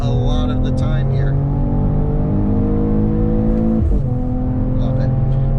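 A 2021 Mercedes E53 AMG Cabriolet's engine pulls steadily under throttle on Los Angeles hill roads, a loud continuous droning note that shifts briefly midway, heard from inside the open car with someone talking over it.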